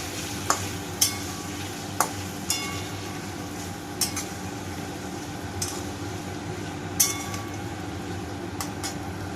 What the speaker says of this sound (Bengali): তেলটা গরম বসিয়ে দিয়েছি, এবার আলুগুলো দিয়ে দেবো। আলুটা দিয়ে দিয়েছি এখানে। লাল লাল করে আলুটা ভেজে তুলে নেবো।